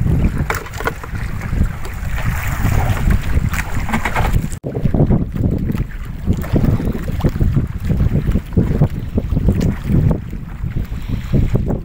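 Strong wind buffets a small fishing boat out at sea off Valladolid, Negros Occidental, with a steady, loud roar that briefly cuts out partway through and then resumes.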